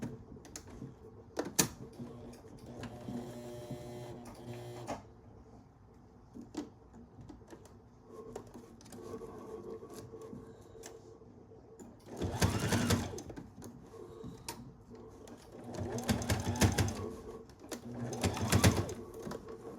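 A sewing machine stitches a fall-themed pillow in short, close bursts of rapid mechanical whirring, with pauses between runs as the fabric is turned at the corners; louder runs come near the end.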